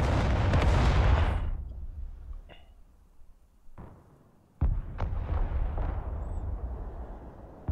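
A heavy artillery blast and rumbling boom in the video game Broken Arrow fades out, followed by scattered distant thuds and a second loud impact with lingering rumble.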